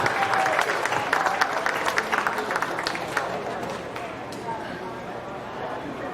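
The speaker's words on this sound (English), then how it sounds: "Give her a good round of applause as she wraps up this division" Crowd at a county fair beef show applauding an exhibitor with a Mini Hereford steer, steady clapping fairly close that gradually fades.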